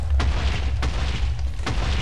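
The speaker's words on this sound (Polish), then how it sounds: "niech jeszcze ta wieża wybuchnie" A tower blowing up in a space video game, heard as a sustained low rumbling boom with a few sharper bursts recurring roughly every second, loud and with no voices.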